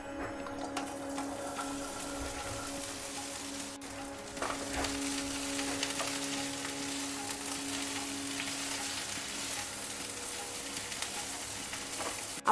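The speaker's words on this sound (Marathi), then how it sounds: "भेंडी भाजताना गॅसची फ्लेम मात्र मीडियम ठेवायची।" Okra sizzles steadily in hot oil in a kadhai over a medium flame, a continuous close frying hiss with occasional stirring scrapes and no talk.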